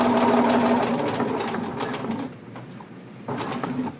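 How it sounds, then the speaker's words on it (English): A sewing machine runs steadily while stitching diagonally across a jogger waistband to hold the elastic, a loud close motor whir that dips briefly mid-run, then resumes in a short final burst. "I'm just going to sew diagonally"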